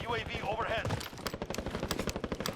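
Rapid automatic gunfire in a Halloween night zombie mode of a shooter game, with fast, evenly spaced bursts that start after an early stretch of other game sounds and continue steadily to the end.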